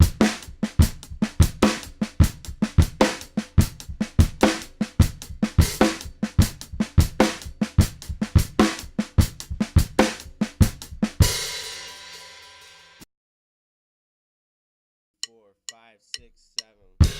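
Drum kit groove in 7/8 driven by hi-hat and bass drum, with dense punchy hits in a repeating odd-meter pattern. A cymbal wash follows, then silence, then a few sparse, faint sounds.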